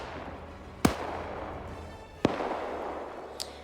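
Sparse gunshots in a World War II video game battle: a handful of sharp single cracks spaced a second or more apart over steady background battle noise, with no talking.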